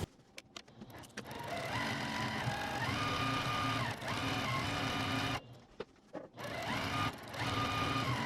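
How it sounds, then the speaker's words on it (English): A sewing machine stitches gingham pillow case pieces in several bursts of steady whirring and rapid needle clatter, briefly stopping and restarting between runs, close by and alone. "now we can take these and sew down, and then we'll sew those two together"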